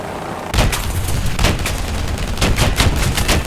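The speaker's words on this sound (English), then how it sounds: "this cannon's got some kick. It is a 30 mil after all" A 30 mm cannon on a very light tank in War Thunder fires a rapid burst of loud, heavy booming shots in quick succession, filling the whole clip close and up front after a brief quiet start.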